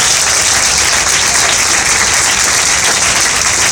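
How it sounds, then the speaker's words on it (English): Loud, sustained applause from a large crowd at a live TCS NYC Marathon event, steady clapping filling the room without a break. "Let's give them another round of applause."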